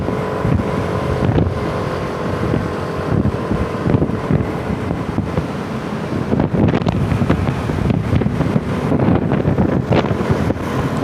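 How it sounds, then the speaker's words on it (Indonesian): Gusting wind batters the microphone at the Hutan Kayu stop in Jakarta under clear skies, a loud, unbroken low roar that swells and thumps in uneven bursts, with no voices. "Kita nggak tahu kenapa angin kencang banget nih."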